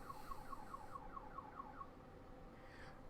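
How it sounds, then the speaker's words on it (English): A car alarm chirps in a rapid, evenly spaced beeping pattern of about nine tones, faint and far off over steady background hum, then stops. "that's a car alarm."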